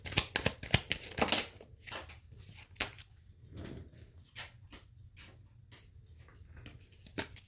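Tarot cards are shuffled in quick, loud riffling bursts up close, followed by scattered softer card slides and taps as single cards are drawn.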